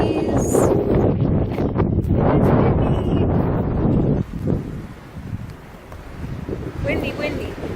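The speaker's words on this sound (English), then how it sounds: "Windy, windy." Strong wind gusts through a desert stand of Joshua trees, a loud steady roar that eases after a few seconds into lighter buffeting, with a voice speaking over it.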